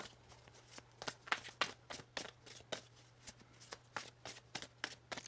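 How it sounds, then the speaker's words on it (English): Tarot cards shuffled by hand in a steady run of quick riffling flicks and soft taps, close and fairly quiet, with no talking. "Let's get one more shuffle here for you."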